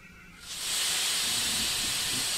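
A steam locomotive in Train Simulator lets out a loud, sustained hiss of steam that swells in after a quiet start and holds steady without a break.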